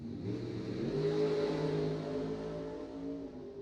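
A bracket drag racing car revs its engine on the starting line, a loud, close engine drone that swells and holds with steady harmonic tones before easing slightly, no voices over it.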